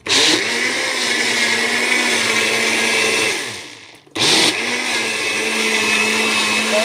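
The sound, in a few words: blender whipping oil into homemade butter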